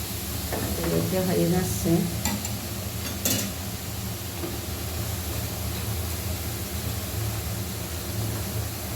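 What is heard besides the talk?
juice boiling and hissing in a pot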